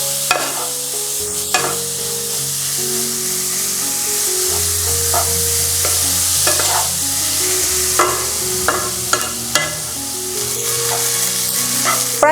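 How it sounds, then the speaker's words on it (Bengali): Cauliflower filling for paratha cooks on a medium flame in a loud, steady sizzle, with repeated scraping stirs and spatula taps against the pan and a faint low hum underneath. "প্রায় 5 মিনিট মিডিয়াম ফ্লেমে এইভাবে নাড়াচাড়া করার পর দেখুন"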